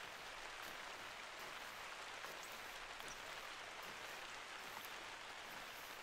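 Rain falls in the hunting game theHunter: Call of the Wild as a constant, soft hiss of droplets, faint and unbroken throughout with no voices.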